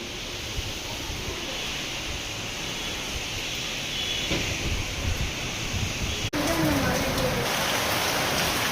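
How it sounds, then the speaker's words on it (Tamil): Rain pours during a thunderstorm in Acharapakkam, a dense, steady hiss that fills the whole clip, with a brief sharp click near the end and no thunder standing out. "அச்சிரப்பாக்கத்தில் இடியுடன் கூடிய மழை பெய்து கொண்டிருக்கிறது."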